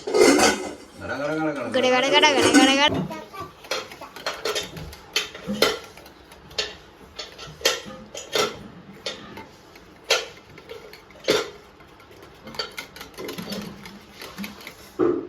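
A spoon clinks against a bowl as omelet eggs are mixed with turmeric and chilli powder, making irregular sharp taps after a brief louder mixed sound at the start.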